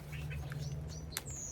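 Small birds chirp in quick, thin high tweets over a steady low hum, several short calls close by, outdoors while planting bare-root pear and plum trees.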